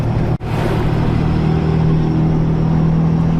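A Cummins diesel pickup truck on a race tune revs hard, producing a loud, steady, close engine roar with a low rumble and a brief dip near the start.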